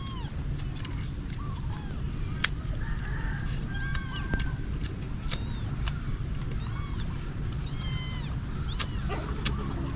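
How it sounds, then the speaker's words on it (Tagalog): Several cat meows ring out across the stretch, repeated and fairly close, over a steady low background hum with occasional faint bird-like chirps. "Ang ingay ng pusa."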